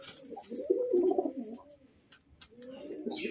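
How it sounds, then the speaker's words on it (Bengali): An aggressive breeding pair of pigeons coos in low, throaty, rolling phrases, two bursts close by with a short quiet gap between them. "দেখুন কিরকম গরম পায়রা"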